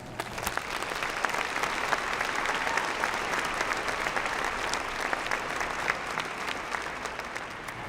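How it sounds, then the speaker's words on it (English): A university spring commencement audience applauds parents, family and friends, a steady, dense wash of clapping from a large crowd that holds at an even level throughout. "Let's take a moment to provide them with a round of applause and our thanks"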